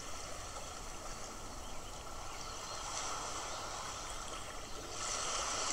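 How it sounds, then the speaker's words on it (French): Sea waves wash onto a beach in a soft, continuous hiss that stays low and steady, then swells slightly near the end, with no voices over it. "Les vagues, leur va-et-vient."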